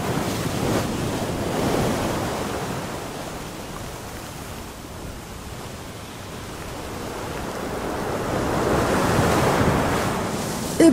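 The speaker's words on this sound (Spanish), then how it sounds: "Se encaminó hacia el mar, cuyas olas a esa hora se estrellaban con furia contra los escollos." Ocean waves crash against rocks with loud surging roars that swell, fade and build again, under steady wind, with no voices.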